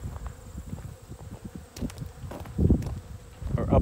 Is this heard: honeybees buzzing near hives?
yes